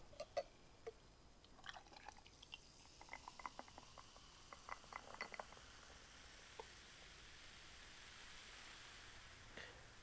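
Pepsi Fire cinnamon cola poured over ice in a glass fizzes with a dense crackle of tiny bubbles and scattered clinks and pops, faint and close, with no talking.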